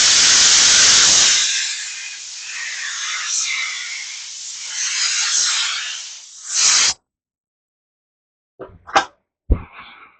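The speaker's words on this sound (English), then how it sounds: "All right, we're spraying nice." A loud, close hiss of an aerosol spray can runs for several seconds with a brief final burst, followed by silence and a few soft clicks.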